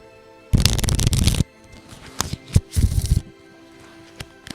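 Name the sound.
playing cards being shuffled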